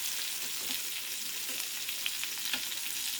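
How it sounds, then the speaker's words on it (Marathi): Fish frying in hot oil in a pan as pieces are flipped, a steady close sizzle with a few soft scrapes and pops of the turning, no talk. "आता आपण मच्छी पलटी मारणार आहोत"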